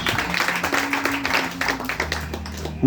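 Church congregation clapping for Jesus, a burst of hand claps over sustained music tones, fading toward the end as a new tone enters.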